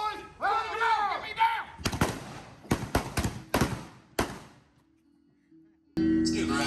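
Blank gunshots ring out in a staged western gun show at a mountain tourist town, a series of sharp, loud cracks in uneven bursts, some close together, following a shouting voice and separated by brief quiet gaps.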